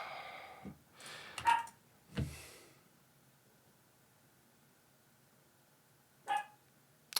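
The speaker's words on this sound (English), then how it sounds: "I'm not sure if you can hear my dog," A pet dog barks a few times indoors, faint and off to one side, with irregular single barks separated by long quiet stretches.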